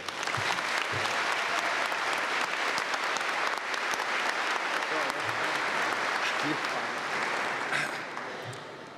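Sustained audience applause greets a speaker at a commencement ceremony, dense, steady clapping filling the room for several seconds before fading out at the end.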